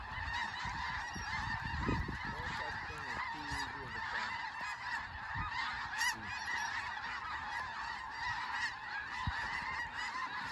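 A dense flock of snow geese honks continuously and loudly during a South Dakota hunt, overlapping calls forming a steady clamor with occasional closer honks standing out.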